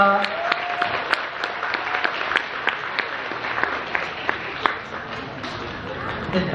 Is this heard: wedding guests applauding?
yes